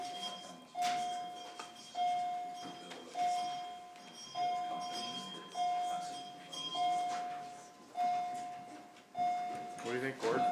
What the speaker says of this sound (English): If you could ring the bell.